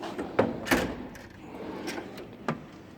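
A Snap-on KRL toolbox drawer rolls and clunks in a few short knocks and slides, with a sharper thump near the middle and another toward the end, fairly close in a quiet shop.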